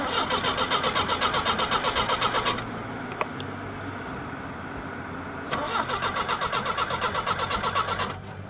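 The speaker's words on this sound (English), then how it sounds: "So the starter is working." Starter motor cranking the engine of a 1977 MGB under restoration, two loud, close bursts of rapid rhythmic churning with a quiet pause between them, the engine not catching.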